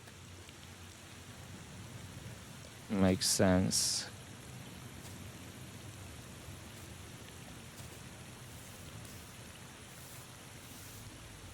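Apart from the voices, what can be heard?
rain in the video game The Thaumaturge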